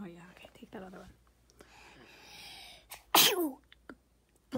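A sick girl lets out one sharp, loud sneeze up close after quiet whispering and soft speech. The talk goes on quietly around it.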